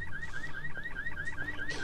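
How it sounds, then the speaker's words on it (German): An alarm in the Dead Island Riptide video game, a rapid, steady warbling electronic tone repeating many times a second, loud and continuous throughout with no talk over it. "Der Alarm lockt die ganze Zeit."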